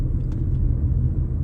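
A car drives at night on the streets of Merida, a low steady rumble of engine and road noise close by that continues without a break.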